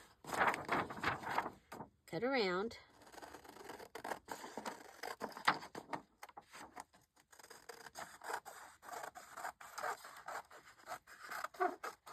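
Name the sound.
scissors cutting paper for a junk journal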